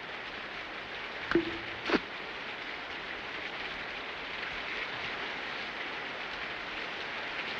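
Steady rain hisses as an even, continuous wash through a scene in a western film, with two brief sharp knocks early on and no speech.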